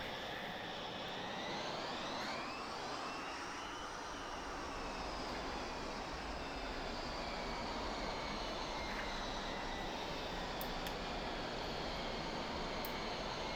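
A Dassault Mirage F1CE jet engine in the DCS flight simulator idles and taxis, a steady loud broadband whine and roar with a slowly rising and falling pitch sweep, with no talk over it.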